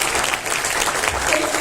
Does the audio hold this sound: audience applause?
yes